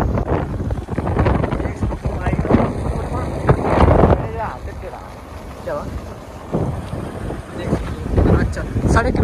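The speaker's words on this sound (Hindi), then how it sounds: "बढ़िया हवा चल रही है यहाँ पर" Strong wind buffets the microphone while riding a bike along a mountain road, with loud irregular gusts and roaring bursts that rise and fall throughout.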